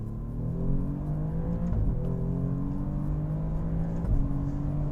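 An Alfa Romeo Giulia Quadrifoglio with a tight-ratio, non-double-clutch gearbox accelerates hard. The loud engine note climbs steadily and drops briefly at two quick upshifts before pulling on.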